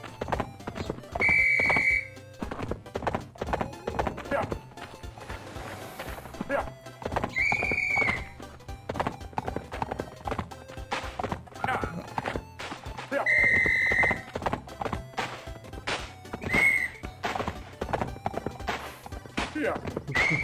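A white horse in the video game Survivalcraft 2 clip-clops along with repeated hoofbeats while whinnying in several short bursts, under someone talking throughout.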